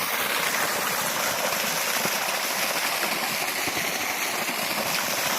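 Steady broadband rush of water flowing across a red-soil farm planted with teak, sandalwood and areca, continuous and fairly close with no pauses, alone without voices.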